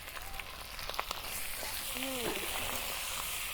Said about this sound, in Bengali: দেখুন, মাংস আলু দিয়ে আমার ভাজা ভাজা হয়েছে।